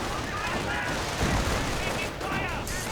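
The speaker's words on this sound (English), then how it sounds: "Mortar joining in as well" Gunfire and mortar blasts from a World War II game battle, with dense continuous shooting and a heavier thump near the middle, loud and busy throughout.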